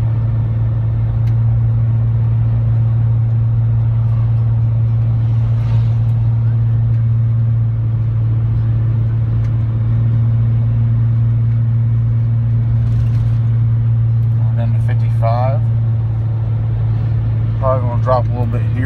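A 2006 Ford F-350 pickup climbs a mountain grade on cruise control at a steady 56 mph, with its engine drone constant and loud inside the cab throughout. Faint chirps and clicks are heard briefly near the end.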